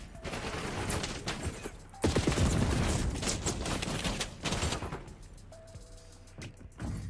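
Shotgun firing slug ammunition in Call of Duty: Warzone, a dense run of loud, close booming shots layered with game noise, with a heavy burst around the middle and sharper reports near the end.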